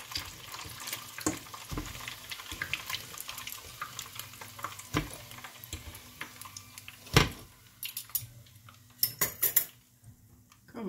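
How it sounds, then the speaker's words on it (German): Pierogi filled with cottage cheese fry in a pan, a soft sizzle running under frequent clinks of cutlery and a utensil against the pan, close by, with no talking. "nehme sie raus und brate sie jetzt alle so"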